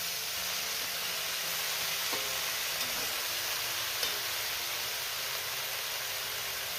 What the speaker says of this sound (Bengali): এবার আমি শাকটাকে একটু নেড়ে চেড়ে নিচ্ছি।